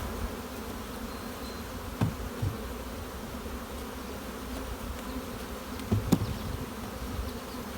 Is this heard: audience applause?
no